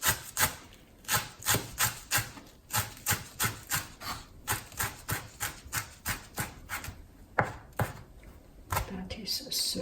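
Vegetables cut with a knife on a board for home-cooked tacos, a steady run of close, crisp chopping strokes in an even rhythm that loosens near the end.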